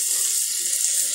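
Water pours steadily from a tap into a cooking pot for vegetable pulao, a constant close hiss and splash with no pauses.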